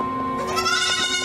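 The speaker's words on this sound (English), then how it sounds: "Oh, a little goat. A billy goat." A single billy goat bleats in a drawn-out, wavering cry, loud and close, with no talking over it.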